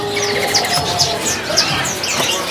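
Cigun birds at a kiosk in a bird market, with several bright chirps and tweets repeating over a steady murmur of background crowd noise, fairly close and loud.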